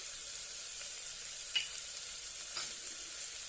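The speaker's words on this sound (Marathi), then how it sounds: "आणि छानपैकी आपण हे परतून घेऊया" Spices sautéing in a pan for moong pulao, a faint steady sizzle with a few light stirring scrapes, no voices.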